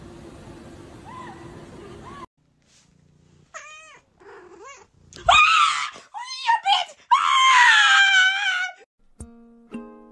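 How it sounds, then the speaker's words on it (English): A newly adopted cat yowls and wails in several rising, drawn-out cries of varying loudness, close to the microphone, with stretches of quiet between them. "This is my new cat."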